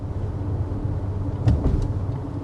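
A 2025 Genesis GV80 Coupe cruising on a sweeping road in comfort mode, a low steady cabin rumble of road and tire noise with faint engine hum, a few soft clicks partway through, no talking.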